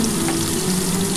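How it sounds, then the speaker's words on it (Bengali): Pieces of radish fry with a little turmeric in a pan, giving a steady, close, even sizzle with no voices. "এবার এই মূলোটা একটু ভালো করে ভাজা ভাজা হয়ে গেলে"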